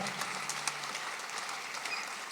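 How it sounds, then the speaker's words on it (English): Applause from a studio audience carries on as a faint, steady wash of clapping through the whole stretch, with no voices over it. "Let's keep the applause going"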